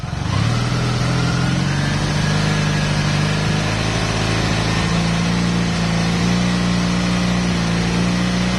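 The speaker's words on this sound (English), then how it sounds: "What I'm going to do is increase the RPM now." A nearby motorcycle engine hums steadily, then climbs in pitch as it revs up and holds a higher, even drone during a stator test.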